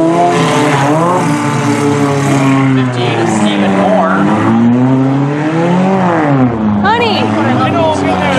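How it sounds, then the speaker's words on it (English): Race cars in a figure-8 race roar around the turn, engines revving and rising and falling in pitch continuously and loudly, with a voice talking over them. "They're coming around the turn for one final"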